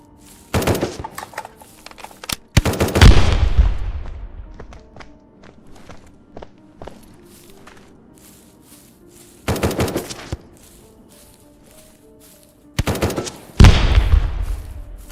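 Bursts of automatic gunfire in the Dreadzone zombie survival video game, several loud rapid volleys separated by quieter stretches with scattered footsteps and thuds.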